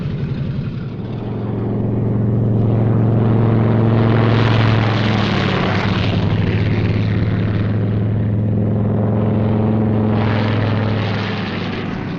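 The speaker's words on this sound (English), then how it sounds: "Takeoff by 2s on the quarter minute." WWII US fighter planes take off in pairs, their piston engines and propellers roaring loudly and steadily as they pass close by and the sound swells and holds.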